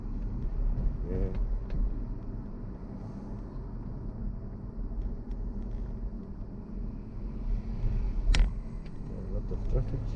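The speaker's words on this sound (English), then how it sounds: "A lot of traffic." Road traffic rumbling around a car driving near a harbor with boats and fish sellers, a steady low drone of engines and tires with brief passing swells, while a person talks over it.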